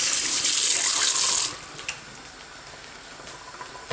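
Foraged wild greens rinsed under a running kitchen tap, a loud steady gush of water for about a second and a half, then cut off, leaving faint drips and small handling sounds.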